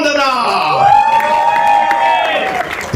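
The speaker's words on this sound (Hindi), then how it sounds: "Please put your hands together and welcome the one, the only, the very gorgeous Rashmika Mandana." Audience at a film trailer launch cheering, whooping and screaming loudly as actress Rashmika Mandanna is welcomed on stage, a dense sustained roar of many voices close by.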